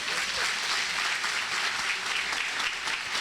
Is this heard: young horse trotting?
no